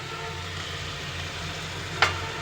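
Spices and chili powder fry in a pan with a steady, even sizzle and one brief clink near the end, no voices.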